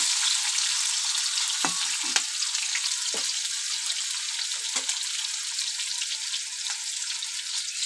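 Potato pieces crackle in hot oil for a Bengali fish curry, a steady bright sizzle running throughout with a few sharper pops and clinks scattered across it, close and fairly loud, no voices.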